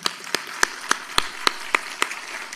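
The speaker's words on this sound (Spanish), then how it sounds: "Un aplauso para ustedes también, queridos brigadistas." Evenly spaced, crisp claps ring out at a steady rhythm over a faint room hush, saluting forest fire brigade members at a public accounts ceremony of Chile's national forestry corporation.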